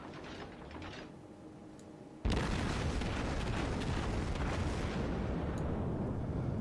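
Naval gunfire in World of Warships: a quiet mechanical stretch gives way to a sudden loud boom, followed by a dense, sustained rumble of shell fire and impacts.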